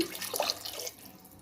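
Water splashes and pours briefly into a pressure cooker, about 200 ml, a short, soft trickling that fades after about a second.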